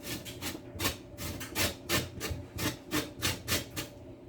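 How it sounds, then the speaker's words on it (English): Limes are zested on a small hand grater, producing rhythmic scratchy rasping strokes, about two per second, close and fairly quiet with no talking. "Basically, zesting limes is taking the peel off of the outside. I use this small grater."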